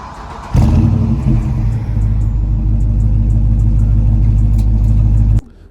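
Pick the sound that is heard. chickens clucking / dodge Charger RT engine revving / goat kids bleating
dodge Charger RT engine revving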